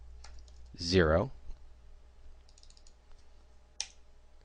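Soft keystrokes on a computer keyboard as Python code is typed in Maya, faint and sparse, with a brief burst of a voice early on and one sharper click near the end.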